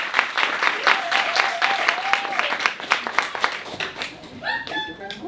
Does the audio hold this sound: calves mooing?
no